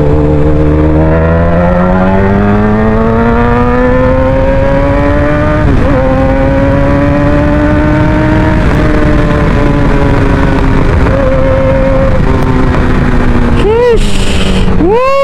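Big bike motorcycles of a riding group on the road near Anilao, Batangas, loud continuous engine drone with rising and falling revs and a sharp rev sweep near the end, recorded up close with wind.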